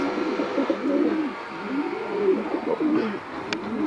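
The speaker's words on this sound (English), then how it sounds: "There we have the doves" Pigeons or doves in a loft coo in soft, repeated low throaty phrases, several birds overlapping steadily close by with no talk.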